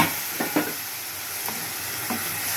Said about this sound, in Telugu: రాజ్మా ఉడికిచ్చిన వాటిలో వచ్చిన వాటర్ కూడా పోసేసుకుంటున్నాను